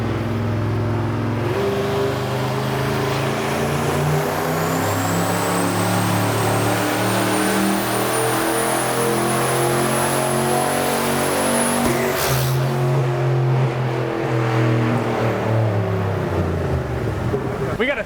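A methanol-fuelled turbo engine screams loudly through a sustained pull with a rising high whine, then cuts off abruptly as the intake blows apart, leaving a lower rumbling idle.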